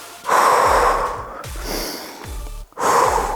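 Forceful breaths pushed out during a triceps dumbbell exercise, three loud rushing bursts with short pauses between them, close to the microphone with no speech.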